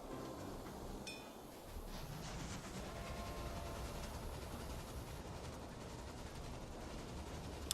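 A train climbing a 3% incline in Railway Empire, an express heading up the grade: a steady, even rumble of rolling wheels and engine, moderately loud and constant throughout, with a brief high clank near the start.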